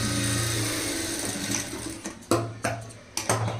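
Sewing machine stitching a high-neck blouse, a close mechanical whir that runs steadily and then breaks into short stop-start bursts of stitching with clicks between them.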